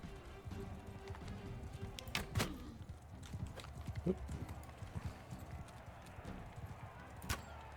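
Horse hooves galloping in the video game Mount & Blade 2 Bannerlord, a steady clip-clop rhythm close by, with occasional sharper impacts of combat layered over the running.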